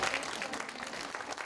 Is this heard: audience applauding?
yes